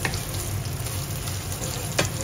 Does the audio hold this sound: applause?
no